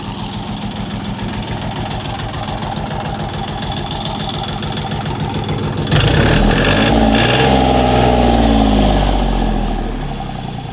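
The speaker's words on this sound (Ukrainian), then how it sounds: "цілий день трактор в роботі." Kentavr 244SX tractor with a KM385VT-72S diesel engine running after a day of disking, a close, loud knocking idle with a rapid regular beat that suddenly surges into a heavier, deeper revving roar before easing back.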